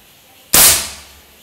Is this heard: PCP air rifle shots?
yes